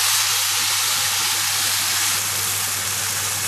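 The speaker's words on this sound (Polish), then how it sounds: "zalewam całość puszką siekanych pomidorów" A steady, loud sizzling hiss fills the whole stretch as a can of chopped tomatoes is poured into a hot pan, with no voices.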